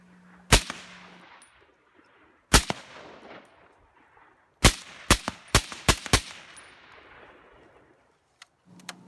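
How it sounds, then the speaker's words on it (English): Suppressed shots from a Desert Tech MDR rifle fitted with a Nikon Black 1:4 scope, fired outdoors: sharp isolated reports, first two spaced seconds apart, then a quick string of five, with a faint pop near the end. "these are the very first shots you're seeing here"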